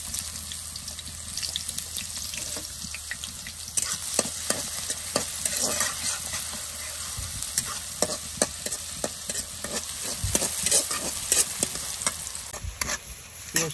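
Fish frying in a pan while being stirred, with a steady close sizzle and repeated scraping clicks of a utensil throughout, no voices.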